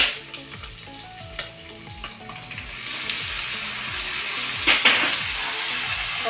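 Tomato pieces fry with dried fish in a pan, a loud close sizzle that swells and stays steady, with a few sharp crackles and spatters along the way.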